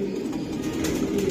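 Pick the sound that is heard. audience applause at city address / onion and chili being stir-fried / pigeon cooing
pigeon cooing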